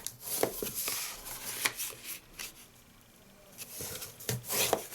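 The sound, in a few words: folding and burnishing card for a gift box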